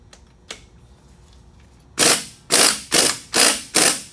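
A ratchet wrench loosens a strut nut on a Nissan Sentra during front shock replacement: a few faint clicks, then five loud, evenly spaced bursts of ratcheting close by, with no voices.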